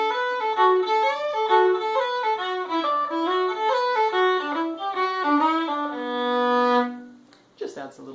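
Walsh's Hornpipe played in proper hornpipe style with a lilting, swung rhythm on a solo melodic instrument, close and clear, closing on a sustained low note followed by a short noise.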